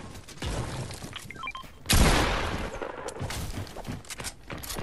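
Sniper gunfire in the Fortnite video game, a sharp loud shot with a decaying tail near the middle among smaller scattered cracks and in-game clatter.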